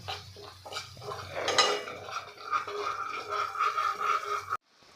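Masala for aloo matar being sautéed in a pan, a steady low sizzle under repeated clinks and scrapes of a metal spoon against the pan, with a louder clatter partway through before an abrupt stop.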